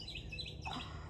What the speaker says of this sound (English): Did you guys heard the birds singing?